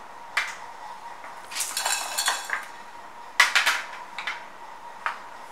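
Dry spices roast in a pan while being stirred: coriander, cumin, dried red chillies, black pepper and fenugreek for a pepper chicken fry. Scattered bursts of scraping and rattling clatter stand out over a quiet background.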